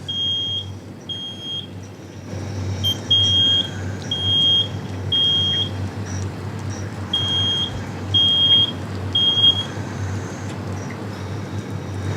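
A residential smoke alarm sounds at a live home fire sprinkler demonstration, repeating piercing beeps in groups of three over a steady low outdoor engine rumble and traffic noise.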